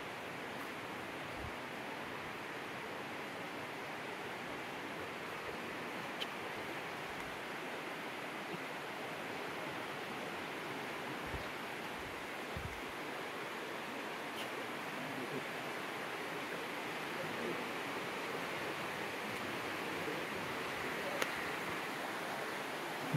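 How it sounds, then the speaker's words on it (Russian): Underground river rushing somewhere inside Nguom Ngao cave in Vietnam, a faint, steady broadband roar with a few soft thumps and footsteps. "Где-то шумит подземная река,"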